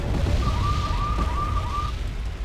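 A siren wails in a real-time war strategy game, a steady rising and falling tone that sounds for about a second and a half over a dense rumble of battle noise.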